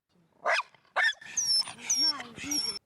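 A dog barks sharply several times close by, the barks interspersed with whiny yips, while a person speaks in the background.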